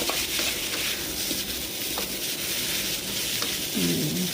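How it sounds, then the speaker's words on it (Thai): Rice being stir-fried with seasoning sauce, sugar and seasoning powder: a continuous loud sizzle with soft scraping of a spatula on the pan, close up, with no talking. "คลุกเขาผัดให้เข้ากันเลยนะคะ"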